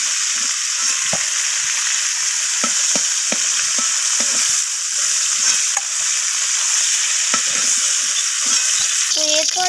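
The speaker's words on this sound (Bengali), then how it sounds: "তো কপিগুলো এখানে লালচে করে ভাজা হয়ে গেছে।" Cauliflower florets frying in oil until reddish-brown, a loud continuous sizzle with frequent utensil scrapes and stirring clicks, no voices.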